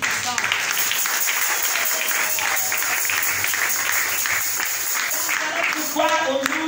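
A congregation in a church service applauds and cheers to acclaim the Lord, a dense, steady wash of clapping and voices that holds at full level throughout, with a few shouts rising out of it near the end.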